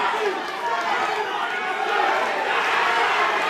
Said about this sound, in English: Crowd absolutely going wild, cheering on Tim Antonio.